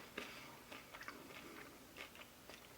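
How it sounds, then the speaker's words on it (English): Crunchy peanut butter cookie chewed close up: a series of sharp, dry crunches every half second or so, quiet and alone without talk. "You can hear the crunch."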